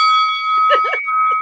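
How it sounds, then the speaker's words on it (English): A bell rung during a live boxing talk show, a sustained ringing tone that carries through the whole moment with voices speaking over it. "You got the bell ready, Crystal?"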